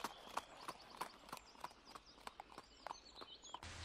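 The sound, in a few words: horse hooves clip-clop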